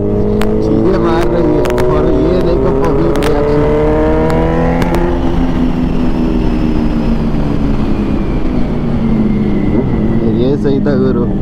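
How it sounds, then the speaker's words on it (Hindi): A Kawasaki Z900 motorcycle revs up hard on a city street near an underpass, its engine note climbing loud and close, then holding a sustained roar under continuous talking. "सामने अंडर पास है तो थ्रॉटल तो आने ही वाली है।"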